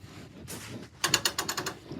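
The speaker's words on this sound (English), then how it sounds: "Put the handbrake down." Ratcheting handbrake on a restored WW2 Clarktor tug being put down: a quick burst of about six sharp metallic clicks, close and distinct, after a softer creak, with no talk.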